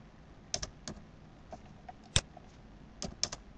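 Typing on a computer keyboard: a few sparse, sharp key clicks and taps in quick clusters, close and fairly quiet against a faint background hum.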